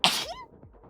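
A single sharp human sneeze, loud and close, bursting out at once and fading quickly into near silence, with no talk around it.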